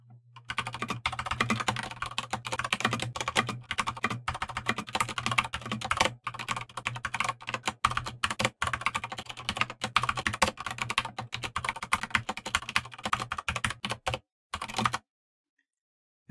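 Computer keyboard keys clatter in a fast, steady stream of typing for about fifteen seconds, close and clear, with a few brief pauses before stopping abruptly near the end.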